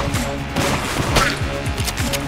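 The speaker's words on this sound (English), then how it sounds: "this shotgun is kind of crazy." A shotgun in the video game Enter the Gungeon fires repeated punchy blasts at an irregular quick pace, layered over busy game effects and a steady musical background.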